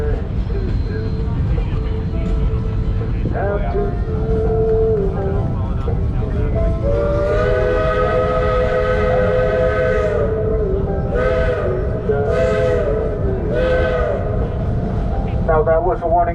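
Steam-style train whistle on the Georgetown Loop Railroad sounding a series of long and short blasts over the rumble of the moving train, loud and close, with a few short bursts near the end.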